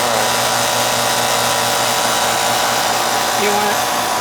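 A garden hose sprays water steadily onto a Ruud AC condenser unit, making a constant loud hiss and rush, with the unit's hum underneath.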